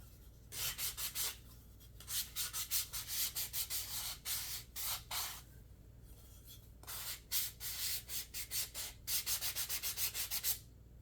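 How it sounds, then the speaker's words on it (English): Wooden riser ends being distressed by hand: bursts of quick, rhythmic rasping strokes, close and fairly quiet, separated by short pauses. "And then I'm distressing the ends."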